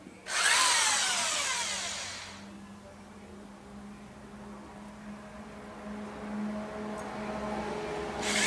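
A power drill bores holes in an antenna bracket for a 2m/70cm dualband Yagi, whirring loudly in a burst of about two seconds. A quieter stretch follows before the drill starts again at the very end.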